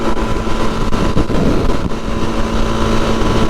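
A five-gear off-road vehicle's engine screams at about 45 mph on the road, a loud, steady high-revving drone mixed with road and wind rush, constant with no talk.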